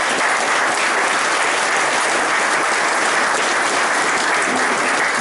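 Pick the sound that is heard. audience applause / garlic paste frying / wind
audience applause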